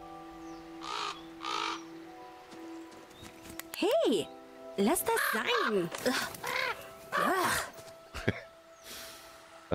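Crow cawing in the video game The Quarry, several harsh repeated caws close by, interleaved with a person talking over a low steady background hum.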